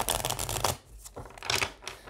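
Tarot cards shuffled in quick riffling bursts, a papery flutter that comes and goes in close, clear waves with no talking.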